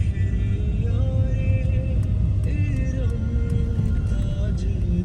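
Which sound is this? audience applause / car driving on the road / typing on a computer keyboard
car driving on the road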